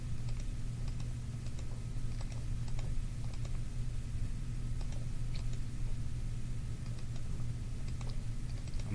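Quiet, rapid plastic key taps from entering a negative number on a calculator, scattered irregularly over a low constant background hum.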